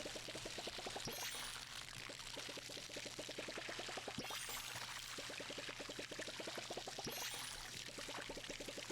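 A watering can pours over seeds in the video game Palia, a soft continuous trickling stream with a rapid rhythmic patter running under quiet background music.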